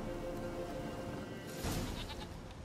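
A goat bleats in The Witcher 3, a short bleat near the end over steady game ambience and music, no talk.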